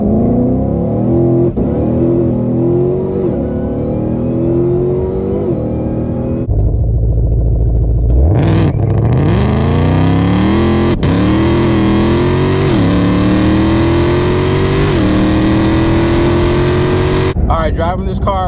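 A 2020 Shelby GT500 idles, then roars as it accelerates hard from a standstill, revving through several gear shifts, loud and close.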